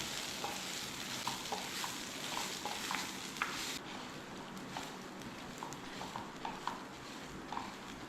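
Rice stirred and fried in coconut oil in a pan for coconut rice: a continuous close sizzle with regular light scraping and tapping of the spoon throughout.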